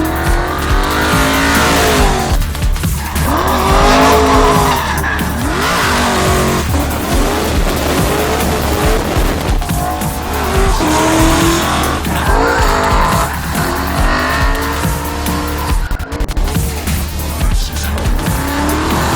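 A Ford RTR X drifts sideways at about 90 mph, its tires squealing almost nonstop over a loud, steady engine roar, close and continuous with no talking.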